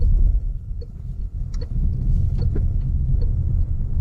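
A Citroen C3 hatchback taken briskly around a small roundabout, heard from inside as a steady low engine rumble with road noise, the engine note rising and easing as the car turns through.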